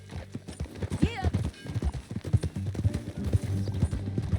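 Horses ridden in Red Dead Redemption 2 give a steady, close clip-clop of hooves, with a brief whinny early on and some voices talking over the hoofbeats.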